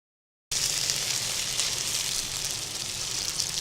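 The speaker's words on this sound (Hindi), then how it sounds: "अब इसमें चिकन हल्का फ्राई करूँगी" Chicken pieces sizzle gently in hot oil in a karahi, a steady close crackling hiss that starts abruptly after a brief silence and continues evenly.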